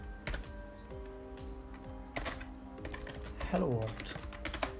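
Close, rapid clicks of keys on a computer keyboard as someone types a short line of code, under a voice speaking quietly in between.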